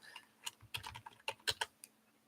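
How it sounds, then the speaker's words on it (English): Someone typing on a computer keyboard, a quiet, close sequence of about a dozen irregular key clicks and taps with no voices. "Let me type something out."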